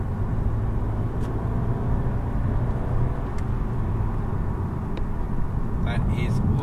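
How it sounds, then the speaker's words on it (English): A twin-charged Volkswagen Golf is driven on a mountain road, heard from inside as a constant, fairly loud drone of engine, supercharger and road noise with a few faint ticks. "you can hear the supercharger."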